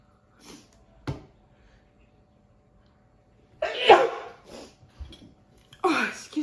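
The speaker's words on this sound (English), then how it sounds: "Oh, I'm gonna sneeze." A single sharp human sneeze bursts out after a soft intake, followed by a second breathy burst, close and loud against near silence, with a brief throat sound earlier.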